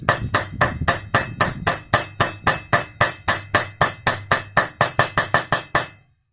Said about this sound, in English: gently tap it in. You can hit it, but don't hit it really hard because you will deform it.